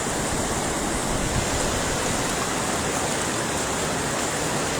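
The Sungai Lintang river in Empat Lawang rushes steadily, a broad loud wash of flowing water close by with no break and no voices.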